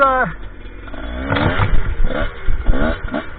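A GPX TSE 250R dirt bike with a 225 engine revs on a muddy trail, its engine rising and falling in loud, repeated bursts close by, with a short voice at the start.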